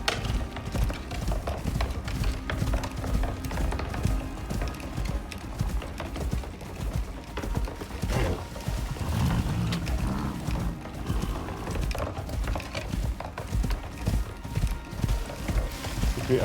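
A horse gallops in the survival game Icarus, its hooves beating in a fast, steady clip-clop for the whole stretch, moderately loud against low game ambience.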